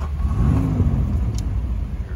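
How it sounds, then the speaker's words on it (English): A 1938 Packard Twelve Roadster's V12 engine starts and settles into a loud, close, low rumbling idle that holds steadily without a break. "we are gonna start the Packard 12 and take it for a drive"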